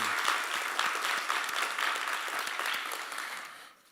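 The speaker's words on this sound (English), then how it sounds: "Let's give them a round of applause." A school board meeting audience applauds staff presenters with brisk, scattered clapping from a modest group, loud at first and then tapering off to near silence at the end.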